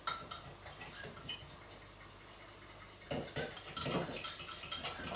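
A whisk clinks and scrapes steadily against a bowl while mixing flour, with quick metallic ticks that grow busier and louder in the second half; no one speaks.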